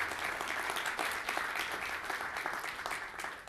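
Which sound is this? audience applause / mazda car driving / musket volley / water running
audience applause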